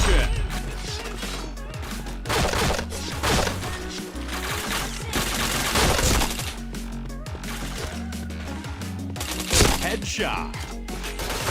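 Rapid bursts of gunfire from a mobile shooter video game crackle continuously, dense and loud, mixed with game effects while a player talks over them.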